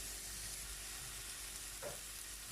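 Meatballs fry in a pan with no added oil, giving off a soft, steady sizzle throughout with a brief scrape or stir near the end.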